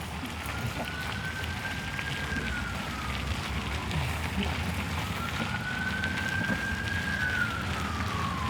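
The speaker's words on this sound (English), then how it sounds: "whenever you're trying to film, that's when you really notice the sirens" Police sirens pass through the city of Oslo, a rising and falling wail sweeping twice over dense traffic and street noise, fairly distant and steady with no talking.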